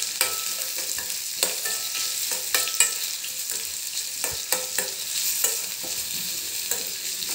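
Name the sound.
tempering sizzling and stirred in pan for mango pickle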